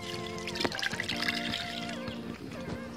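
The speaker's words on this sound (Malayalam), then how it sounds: "ഈ ചൂടാവുമ്പോൾ അതിലേക്ക് പരിപ്പ് വേവാൻ ആവശ്യമായ വെള്ളം ഒഴിക്കുക" Water pours steadily into a heating pan for cooking dal lentils in a home kitchen, a soft continuous trickle with faint clinks and tonal background hum, fairly close.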